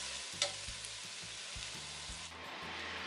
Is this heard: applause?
no